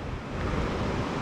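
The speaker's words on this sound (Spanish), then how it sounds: "olas y un poco viento" Steady ocean surf and wind at the coast of Maspalomas on a sunny day, a continuous broadband wash of breaking waves with wind buffeting, loud and even throughout, no voices.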